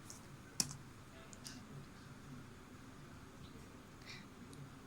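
A single sharp computer mouse click, close and crisp, against a quiet room hum, with nothing else following.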